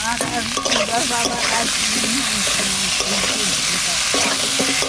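Tomato dropped into hot oil with cumin, bay leaf and a dried chili gives a steady, loud sizzle and frying hiss throughout, with stirring scrapes over it and a voice speaking faintly in the background.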